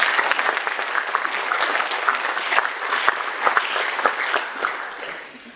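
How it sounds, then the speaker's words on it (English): An audience applauds at a Chief Minister's year-ahead speech in Alice Springs, a steady wash of dense clapping from a sizable crowd that holds for several seconds and tapers off at the end. "can we please give him a round of applause for his community work?"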